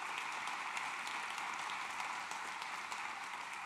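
An audience applauds steadily at the opening of a Danish meeting event, a dense, even wash of clapping with no breaks, moderately faint and distant-sounding.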